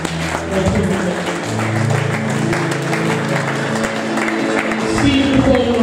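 Church congregation applauding, a dense sustained clapping wash with voices and a sung or hummed tone mixed in, fairly loud and continuous throughout.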